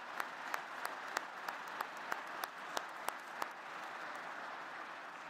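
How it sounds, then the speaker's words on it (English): Audience applause fills a graduation ceremony at an Adrian College winter commencement, a steady wash of many hands with a few louder individual claps standing out, sustained and fairly distant throughout. "Let's give them a round of applause."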